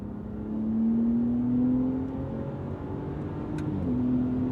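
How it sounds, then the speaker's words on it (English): A 2025 RAM RHO pickup truck accelerating at full throttle from higher in the rev range, its engine note rising steadily as a continuous, fairly loud drone, then dipping and climbing again near the end. "Let me try the acceleration again from a higher part of the rev range"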